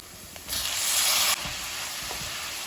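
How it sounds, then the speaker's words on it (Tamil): Onions sautéing in a pan give a steady sizzle that swells into a louder, brighter frying hiss for about a second, then settles back to a gentle continuous sizzle, close up with no talking. "வெங்காயம் நல்லா வதங்கிடுச்சு."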